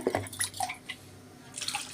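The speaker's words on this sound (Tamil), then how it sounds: "இது கூட தண்ணி கொஞ்சம் ஜாரில் கழுவி ஊற்றிடுங்க" Water used to rinse a grinder jar is poured into a simmering coconut curry. Brief, close splashes and drips come in a few quick bursts over two seconds.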